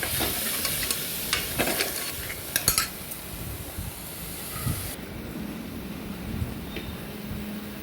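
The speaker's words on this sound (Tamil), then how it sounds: "அதையும் எடுத்து இதிலே போட்டு நல்லா ஃப்ரை ஆகட்டும் ஃப்ரெண்ட்ஸ்" Crabs washed with salt and turmeric fry in hot oil for crab soup, giving a steady hiss and sizzle broken by a series of utensil scrapes and clinks, busier early on and calmer later.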